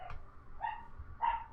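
Dogs barking faintly in the distance, three short yips spaced about half a second apart over a low background rumble, with no talking.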